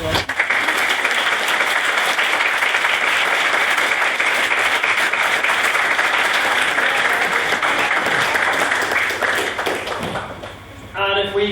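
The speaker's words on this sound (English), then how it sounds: "And if we could, again, get another round of applause for Miss Montgomery's." Audience applause fills the room as a sustained, loud wash of clapping that holds steady for about ten seconds, then tapers off near the end.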